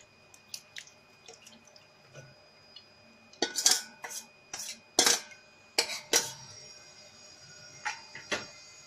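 Mashed tamarind with jaggery is worked through a metal sieve in a home kitchen: scattered sharp clinks and scrapes of utensil against sieve and bowl, clustered in the middle, with soft drips between and no talking.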